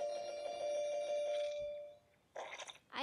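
An electronic doorbell chime rings steadily for over a second, then fades, followed by a few brief crunching noises.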